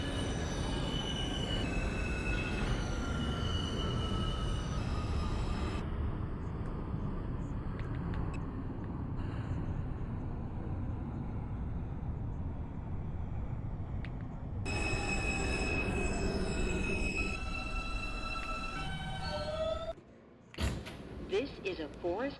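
R160B subway train on the R line in a simulated OpenBVE ride, a steady rumbling run with rising and falling motor whine, door chimes and automated announcements near the end before a brief pause.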